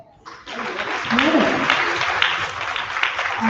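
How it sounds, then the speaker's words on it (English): Audience applause at a live rally against a state takeover of Jackson's water, starting after a brief quiet moment and holding steady as a dense, moderately loud wash of clapping with some voices mixed in. "I'm going to ask you to give yourself a round of applause."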